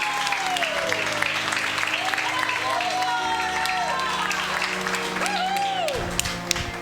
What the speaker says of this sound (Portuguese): Bate palma, aplaude ao nome do Senhor.